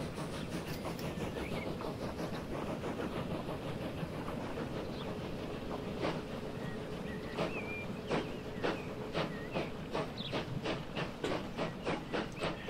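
A train passing by in the video game Transport Fever 2: a steady rumbling roll with a rhythmic clickety-clack of wheels over rail joints, moderately quiet and continuous, with no talking.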